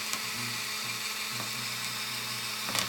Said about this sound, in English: that is how I use my Dremel for polishing